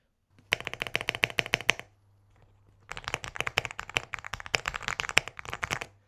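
Rapid clacking keystrokes on a cheap $10 set of shine-through keycaps, hollow and high-pitched, in two close bursts of dense typing separated by a short pause, with a faint low hum underneath and no talking.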